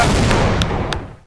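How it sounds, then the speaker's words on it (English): A grenade blast in Counter-Strike: Condition Zero, a loud broadband boom with rumbling decay lasting about a second, with a few faint sharp clicks above it. "that was a grenade that was meant to be tossed at the"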